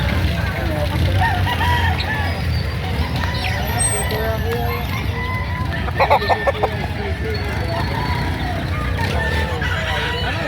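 Chickens at a poultry market, roosters among them, cluck and make short crowing bursts near and in the background, with a brief cluster of calls in the middle, while people talk throughout.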